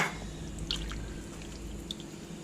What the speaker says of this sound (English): I'm going to put this water in.